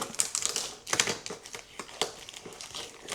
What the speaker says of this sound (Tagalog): Tanggalin natin yan sa tape.